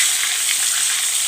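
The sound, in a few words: chicken drumsticks frying in oil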